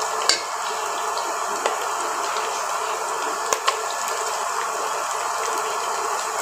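Onions frying in a pan, a steady soft sizzle with occasional small pops and a stirring clink, constant and moderately close throughout.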